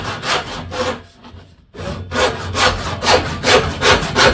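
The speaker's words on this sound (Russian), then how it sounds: "Ламинат вообще одно удовольствие пилить." A Denzel hand saw with 3D-sharpened teeth cuts through laminate in quick, loud back-and-forth strokes, pausing briefly before resuming a steady rasping rhythm up close.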